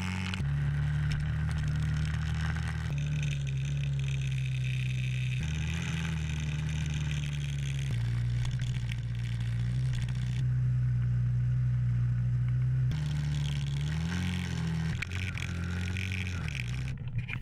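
A 1985 Honda XL100s single-cylinder motorcycle engine runs steadily, a close, loud, even putter with a slight rise and dip in pitch late on, with no voices.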